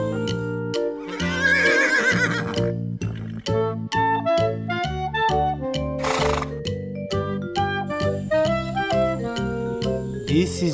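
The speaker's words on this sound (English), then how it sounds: "This is horse." A toy horse from a farm animal toy collection lets out a loud neigh, set against a steady bed of bright, tinkling background music.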